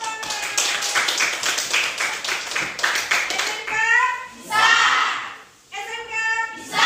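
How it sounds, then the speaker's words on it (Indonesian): Students at a vocational school teaching session clap together for several seconds in a dense, lively burst. Then a group of voices breaks into loud chanting call-and-response. "Oke, tepuk tangan."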